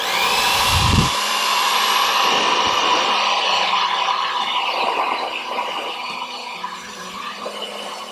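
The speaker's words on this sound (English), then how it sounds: "I'm going to plug in the dryer and we're gonna listen to it" A Pattern Beauty blow dryer runs on setting 1 with a steady, loud whirring blow and a high whine, holding constant for several seconds after a brief thump at the start.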